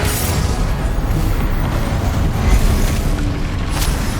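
A Confringo spell blast in the video game Hogwarts Legacy: a loud, dense burst of booming, crackling noise that stays heavy through the whole stretch, with a sharper crack near the end.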